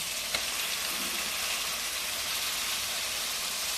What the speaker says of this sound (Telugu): చికెన్ లెగ్ పీసెస్ వేసాను